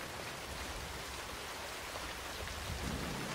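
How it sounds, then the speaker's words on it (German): Steady rain falls heavily and evenly, a dense unbroken hiss of drops with no let-up and no voices over it. "Aber dieser Regen bietet uns den Schutz, den wir brauchen."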